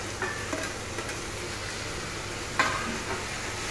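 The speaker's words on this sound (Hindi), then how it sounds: "उसके बाद हम इसमें टमाटर डालेंगे, जो कि काटे हुए रखे हुए हैं हमने।" Chopped tomatoes stirred into frying onions for a tomato and onion chutney over a low gas flame, giving a soft continuous sizzle with occasional scrapes of the spoon.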